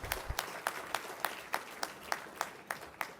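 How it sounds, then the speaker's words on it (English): Clapping at a department degree ceremony for PG Diploma graduates, with sharp, evenly spaced claps standing out over a soft crowd wash; fairly faint and steady, with no talking. "Let's give a big round of applause to all our PG Diploma graduates."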